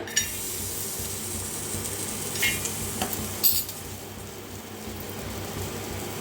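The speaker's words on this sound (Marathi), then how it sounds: "खोबरं भाजून घेऊया आपण." Grated coconut roasting on a hot iron griddle over a gas flame, a dry low rustle with a few light scraping clicks of stirring, close and steady with no voices.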